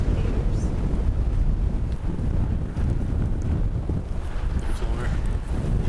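Steady wind buffets the microphone with a constant low roar throughout, and faint voices can be heard beneath it.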